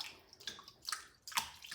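Fresh parsley is rinsed under running water in a kitchen sink, giving short splashing, gurgling bursts of water close by that come in uneven pulses.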